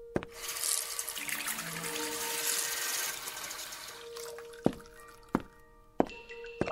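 Water is poured out to water wisteria plants, a steady splashing rush for about three seconds, then a few sharp clinks and drips in a quiet scene from a radio drama.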